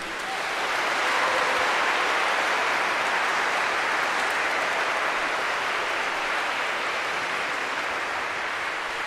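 An audience at an eighth-grade graduation recognition ceremony keeps up a steady wash of applause for families and teachers, even and sustained throughout, slightly distant and moderately loud.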